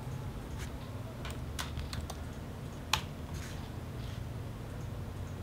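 Several light, irregular keystrokes on a computer keyboard as a command is typed into a flight controller's command-line interface, quiet and close over a steady low background hum, with one sharper key press near the middle.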